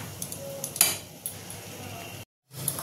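Masala with garam masala, coriander and other ground spices being sautéed in a pan: scattered light clinks and scrapes of a metal spatula against the pan over a low background, then a short dead silence before the stirring resumes.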